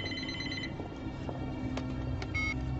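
A telephone rings inside a large house, its bright bell-like tones sounding in short bursts over a steady, dense background hum, with a brief second ring near the end.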